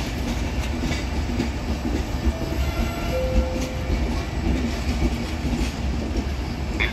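A train departs from a platform at Salerno station with a steady, loud rumble of rolling railcars, faint wheel clatter and a brief high squeal, continuing throughout.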